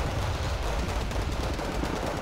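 Dense, continuous gunfire and artillery from a war video game tournament match, steady rapid machine-gun bursts and booms filling the whole stretch, loud and close with no talk.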